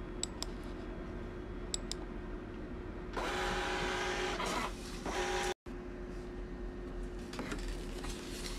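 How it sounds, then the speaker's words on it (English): A Birch receipt printer runs a Windows test page, giving a steady mechanical whirring and rasping print burst, a short pause, then more printing over a constant low hum. "Let's give it another test print."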